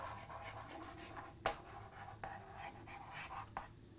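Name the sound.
writing on a board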